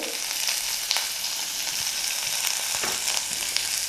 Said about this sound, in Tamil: எல்லாம் போட்டு நல்லா வதக்கிடலாம்.